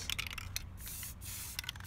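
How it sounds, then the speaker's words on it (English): Hissing bursts from a spray paint can during hydro dipping, a few short sprays followed by a longer continuous one, close and fairly quiet. "Keep spraying."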